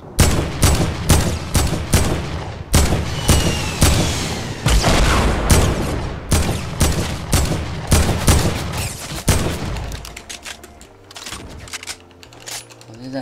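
Rapid Fortnite gunshots fired in quick succession, loud and close, a steady string of sharp cracks for about ten seconds before tapering off, with some talk mixed in.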